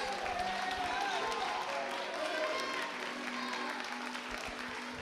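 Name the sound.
church congregation applauding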